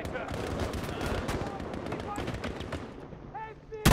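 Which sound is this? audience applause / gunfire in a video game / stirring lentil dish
gunfire in a video game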